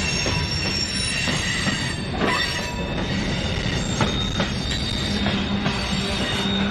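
Freight cars, including grain and trash container cars, roll steadily past at a Binghamton yard with a continuous loud rumble, high-pitched wheel squeal and faint rhythmic clacks.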